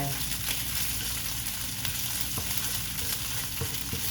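Hand-pounded curry paste for a northern Thai pork belly and Chinese cabbage curry sizzles in a pan, a dense, steady frying hiss close up with occasional light scrapes and taps.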